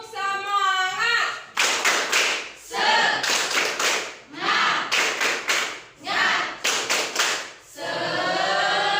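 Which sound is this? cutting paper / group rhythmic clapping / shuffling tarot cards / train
group rhythmic clapping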